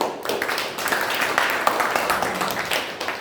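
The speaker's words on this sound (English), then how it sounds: "A big round of applause for the general evaluator," A Toastmasters club audience applauds the general evaluator at a meeting, a sustained, fairly close burst of many hands clapping with no voices over it.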